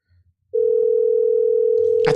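A telephone rings on an outgoing call as one loud, steady electronic tone that starts abruptly and holds for almost two seconds, with a voice breaking in at the very end.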